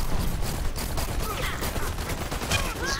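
Gunfire from the online multiplayer shooter Dirty Bomb, a dense, continuous barrage of rapid shots and overlapping bursts, loud and close over the whole stretch.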